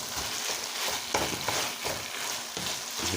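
Green beans with onions and a pinch of chili sauce are stir-fried in a hot pan, with repeated scraping stirs and a soft sizzle in uneven bursts, close and fairly loud.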